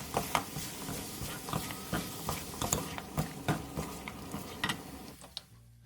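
Octopus stir-frying in a pan with sesame oil, green onion, sesame seeds and chili: soft sizzling under repeated clicking stirs and scrapes of a utensil, close and fairly quiet, ending abruptly.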